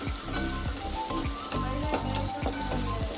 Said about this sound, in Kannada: ಈರುಳ್ಳಿನ ಹಾಕ್ಕೊಂಡು ಇವಾಗ ಚೆನ್ನಾಗಿ ಫ್ರೈ ಆಗಿದೆ ಈರುಳ್ಳಿ